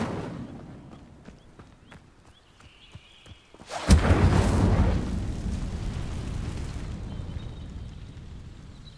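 Incendio fire spell cast in Hogwarts Legacy, a sudden loud whooshing burst of flame against vines that roars and slowly fades into a rumbling tail, following quieter ambient ticks.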